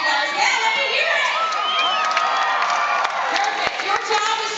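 A theme park studio audience at a live stunt show cheers and whoops loudly, a sustained crowd roar of shouting voices with scattered claps.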